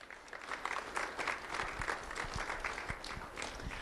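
Brief, moderately faint applause from an audience at a school program event, a scattered patter of clapping hands lasting a few seconds.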